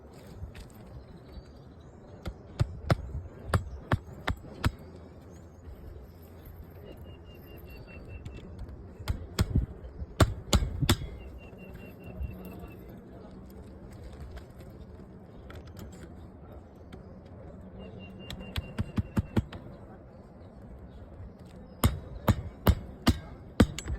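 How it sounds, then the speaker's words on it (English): Hammer blows drive nails into a GAF steel pivot boot set in caulking on a house roof, coming in quick clustered bursts of sharp strikes separated by pauses, with faint outdoor background noise. "And then I'm going to come back and nail it in."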